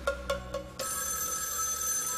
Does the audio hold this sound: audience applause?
no